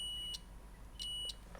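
A multimeter on continuity test gives short high electronic beeps, three brief tones spaced apart, faint against quiet workshop background while testing motorcycle wiring.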